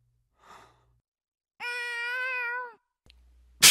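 A single drawn-out cat meow, loud and close, follows a soft breathy sigh and ends in a sharp burst of noise.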